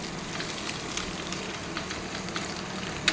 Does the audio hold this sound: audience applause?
no